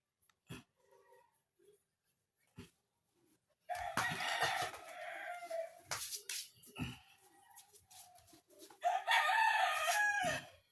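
A rooster crows loudly and near several times, with hens clucking between calls in a quiet farmyard.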